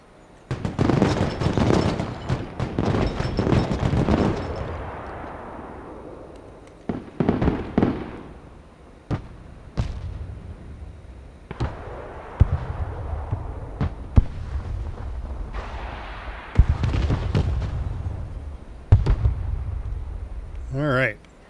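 Heavy mortar fire and explosions in the combat video game Broken Arrow, a loud opening salvo of overlapping blasts followed by a string of sharp separate booms and rumbling impacts, with voices talking in between.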